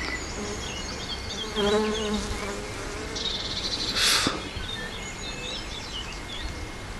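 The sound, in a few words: western honey bees flying in and out of nest hole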